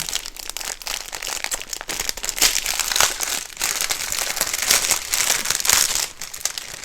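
Steady crinkling and rustling of plastic, close and continuous, with brief louder crunches and scrunches throughout and no talking.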